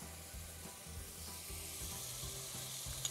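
Onion, tomato, peppers and garlic sauté together in oil in a pan, giving a steady close sizzle with soft stirring scrapes running throughout and no voices.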